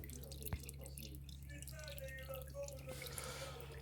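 Old, very dark CVT oil draining from a 2017 Honda Fit 1.3 during an oil change, a faint trickle with occasional drips over a steady low hum.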